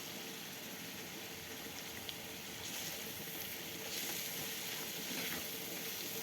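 Mint tossed into a hot pan while making aşure soup, giving a soft, steady sizzle that swells slightly partway through and stays fairly quiet, with no talking.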